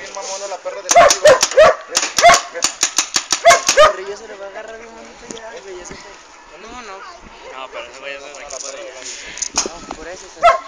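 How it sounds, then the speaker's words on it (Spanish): A city dog barks in a rapid run of loud, sharp yips and barks close by, then falls quiet while people talk, with a few more barks toward the end. "Está haciendo bien mamona la perra de la ciudad."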